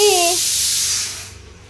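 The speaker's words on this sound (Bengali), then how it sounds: "ডালের সিটি পড়ে গেছে" A pressure cooker whistles while lentils cook: a loud, steady hissing steam blast with a brief tonal whistle at the start, fading out after about a second.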